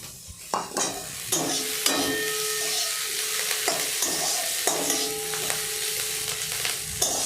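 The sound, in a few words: stirring potato egg dish with chopped coriander in pan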